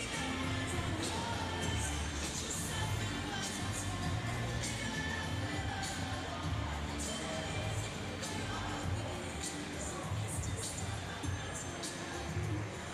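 Indoor crowd noise at a swimming and diving championship in Kingsport, a steady wash of many voices and scattered cheers that continues for the full stretch, with no single voice standing out.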